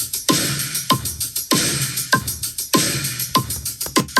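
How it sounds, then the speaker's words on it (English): A steady four-on-the-floor drum pattern from Logic Pro's default kit, with punchy kicks, snappy hits and crisp cymbals, washed in noticeable reverb, looping at a moderate tempo with no voices. "here's the default kit of Logic Pro, which is 4 on the floor kit"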